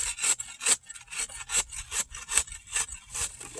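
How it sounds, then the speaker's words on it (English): Corner edge of a shovel scraping and shaping packed dirt on a pump track berm, a steady series of about ten rhythmic rasping strokes, close and fairly quiet, with no voices. "One thing I'm doing with the shovel is I'm just using this corner edge."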